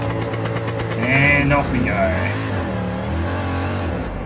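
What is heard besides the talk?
car engine revving in Gran Turismo 7 video game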